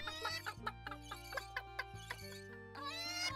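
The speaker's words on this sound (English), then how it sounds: "I'm gonna start yelling over these chickens" Chickens cluck and cackle in the video game Secrets of Grindea, a busy, close run of repeated clucks over a steady in-game music bed, with no talk over them.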